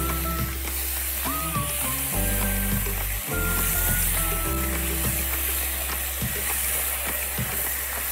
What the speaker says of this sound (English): I'll gently saute the prawns for a couple of minutes on both sides.